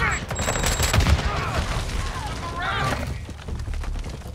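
ISO Hemlock assault rifle firing in Modern Warfare 2 gameplay, with rapid bursts of gunfire layered over busy in-game battle noise at a steady, loud level.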